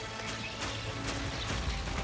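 Horse hooves clip-clop steadily in the online fantasy game Tera, a continuous run of fairly loud, even hoofbeats over constant game ambience, with no talking.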